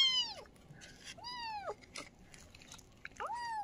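A rescued stray cat meows three times, rising and falling cries spaced apart, close and fairly clear over a quiet room while it eats, with faint soft chewing between calls.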